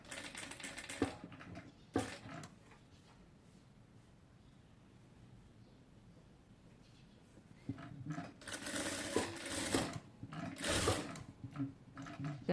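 A sewing machine stitches cloth for a neck design in short rapid bursts, first near the start and then a longer run later, with a quiet pause between and no talking.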